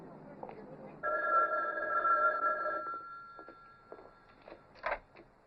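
A telephone rings on a call in a 1979 comedy western scene, sounding as one long steady tone lasting almost two seconds, with faint voices and a few soft clicks around it.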